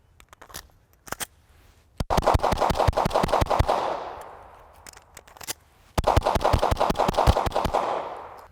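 A Smith and Wesson M&P pistol fitted with Faxon parts fires a few scattered single shots, then two fast, loud strings of rapid fire outdoors, each shot cracking sharply with echo trailing off.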